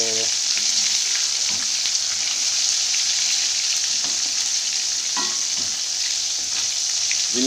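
Gourami fish frying in used cooking oil, a steady close hiss and crackle of bubbling oil running unbroken throughout, with a few faint clinks.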